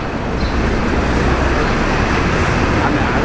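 Steady roadway traffic on a New York City street near the MetLife building, a continuous dense rumble of passing cars and buses without distinct individual events, fairly loud and close throughout.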